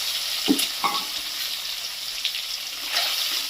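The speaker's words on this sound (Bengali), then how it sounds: "ডিমগুলোকে একদম কড়া করে ভেজে নেবে" Eggs deep fry in hot oil with a loud, steady crackling sizzle close by, broken by a few sharp pops and clinks as they are turned in the pan.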